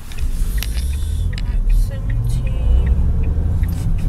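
Inside a moving Ford car, a steady low engine and road rumble fills the cabin with small clicks and rattles on top, while people talk over it.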